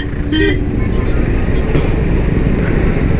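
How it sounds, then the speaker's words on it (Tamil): Constant dense roar of night road traffic heard while riding a motorcycle, with engines and wind noise filling the sound and a brief horn-like toot near the start. "ஆனால் நைட் டைம் வந்து எப்பயுமே இந்த மாதிரி டிராஃபிக்காக தான் இருக்கும்."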